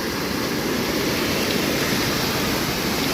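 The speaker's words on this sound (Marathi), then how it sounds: "बंधाऱ्याच्या वरतून पाणी जाते" River water pours over a weir during heavy Konkan rain, making a dense, steady rushing roar that stays even and close throughout, with no voices.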